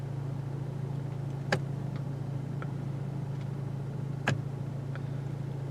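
A 2022 Honda Civic Si driving on a road at night, heard as a faint, steady low road and engine hum with two brief sharp clicks over it.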